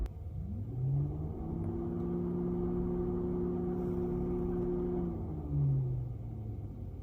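A car's radiator cooling fan spins up with the engine off, triggered by a scanner actuator test. It gives a steady, close whirring drone that rises in at the start, holds evenly and winds down near the end.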